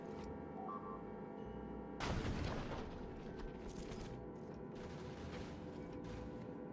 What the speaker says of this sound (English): gun turrets are way better